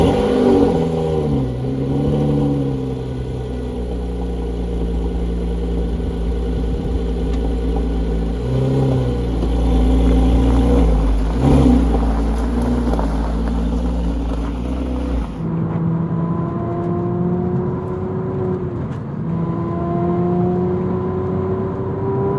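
A car fitted with a 200-cell sport catalytic converter revs repeatedly, its loud, throaty engine note rising and falling in close-up, with a low steady drone underneath until it drops to a lighter run.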